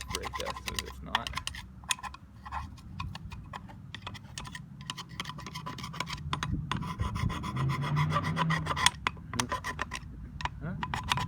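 A wire brush scrubbing brake dust off the rear brake of a 1985 Suzuki Madura 700 GV700GL, a close, continuous raspy scratching of rapid strokes that grows slightly louder, with no talking.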